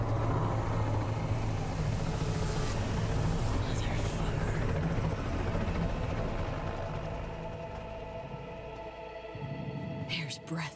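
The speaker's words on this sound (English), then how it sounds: "V, if that chopper gets a lock on us, we'll be as good as dead." Helicopter rotor and engine drone in Cyberpunk 2077, a steady loud thrum throughout that fades slightly toward the end, with voices speaking over it.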